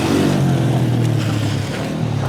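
A motorbike engine runs steadily close by, a loud continuous low drone with a slight rise in pitch, heard alone without talk.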